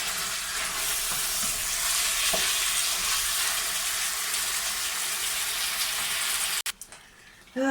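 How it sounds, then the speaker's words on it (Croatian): Meat fries with onions in a pan, giving a loud, steady, close hiss of sizzling with faint stirring. The sizzle suddenly drops away near the end. "meso smo ostavili da se prži sa onim crnim lukom"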